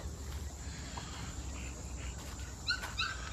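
Dogs at a breeding kennel whimpering and yipping faintly in the distance over a steady low rumble, with a few brief high cries near the end.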